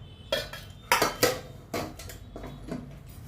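Steel plates and dishes clatter and clink in a home kitchen, several sharp bright knocks in quick irregular bursts followed by softer scrapes, close and fairly loud with no talking.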